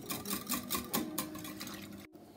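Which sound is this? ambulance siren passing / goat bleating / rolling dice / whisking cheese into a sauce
whisking cheese into a sauce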